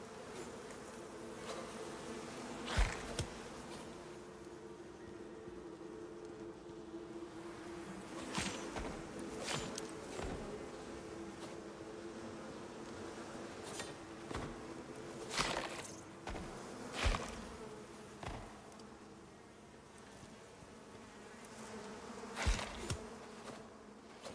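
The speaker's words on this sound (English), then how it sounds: "Bumblebees." Bumblebees buzz steadily in the Icarus survival game, a low continuous drone at moderate distance punctuated by scattered sharp clicks and taps.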